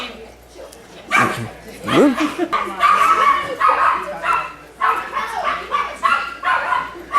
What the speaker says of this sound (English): that dog is being very impulsive now, as you'll notice